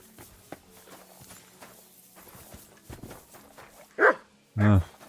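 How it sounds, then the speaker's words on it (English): A dog in the medieval video game Kingdom Come Deliverance 2 gives two loud, close barks near the end, after soft footsteps and quiet background game sounds. "You silly doggy."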